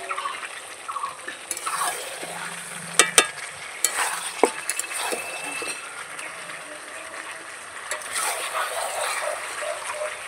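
Potatoes go into a frying meat curry, which sizzles softly under repeated stirring, with a few sharp utensil knocks and splashy bursts along the way.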